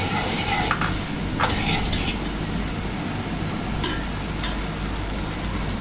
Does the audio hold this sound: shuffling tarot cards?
no